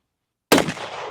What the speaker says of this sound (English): Delance, you have to shoot this.